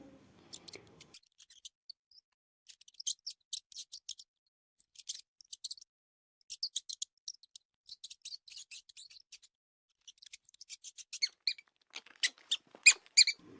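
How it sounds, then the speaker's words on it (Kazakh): A mouse squeaking in rapid bursts of high, thin chirps, close and fairly faint, with short pauses between the clusters. "Ал мынау тышқан. Тышқан пи"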